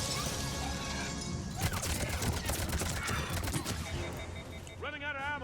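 Gunfire in Mass Effect 3, with dense overlapping shots and impacts sounding loud and close as a sustained firefight, followed by a warbling electronic tone near the end, all under continuous game noise.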